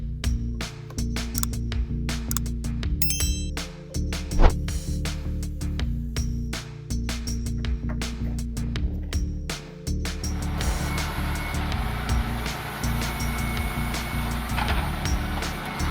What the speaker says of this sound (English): The self-loading timber truck, equipped with an automatic crane system and a powerful engine with high horsepower